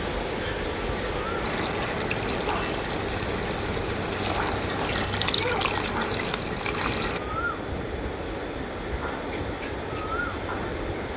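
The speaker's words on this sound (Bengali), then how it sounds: "এরপর আমি মাংসের লাল ঝোল বানানোর জন্য পরিমাণ মতো জল দিয়ে দেবো" Water is poured into chicken meat frying for red curry, a steady broadband gushing sizzle that runs unbroken for about eleven seconds at moderate loudness, with no talk.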